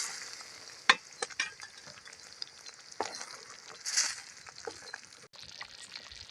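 Oil brinjal curry with tomato, tamarind and water simmering in a pan: a faint, low bubbling and sizzle broken by a few sharp clinks and scraping stirs of a spoon.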